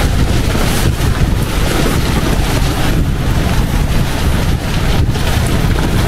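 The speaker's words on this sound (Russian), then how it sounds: "Ветер 40 метров в секунду." Strong wind of about 40 metres per second roars steadily and loudly against the microphone beside a Toyota Hiace camper van's tent, a constant buffeting rush with gusty surges and no voices.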